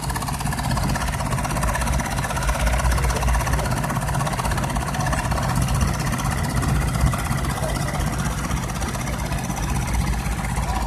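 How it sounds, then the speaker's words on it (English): A vintage American Wheel Horse tractor with a small diesel engine runs at a Sheffield steam rally tractor parade, its loud, steady chugging close by and unbroken throughout. "So we've got the wheel horse now, an American tractor."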